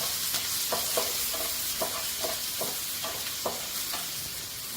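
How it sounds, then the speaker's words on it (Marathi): Chopped onion sautés in hot oil in a pan, with a constant close sizzle broken by a regular rhythm of spatula stirring strokes and no voices. "आता कांदा व्यवस्थित असा परतून घ्यायचा आहे"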